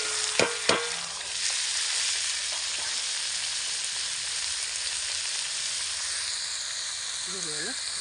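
Chopped onion, shallots, tomato, green chilli and garlic hit a very hot pan for a chicken curry: a couple of sharp knocks, then a loud, steady, close sizzle that holds throughout, with a brief voice near the end.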